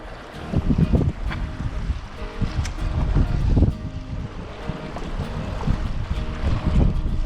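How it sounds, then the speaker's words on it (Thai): Strong wind at the seashore during shore fishing, roaring in gusty buffets against the microphone with the rumble of surf beneath, steady and loud throughout. "โอ้ยลมแรงจริงๆเลย"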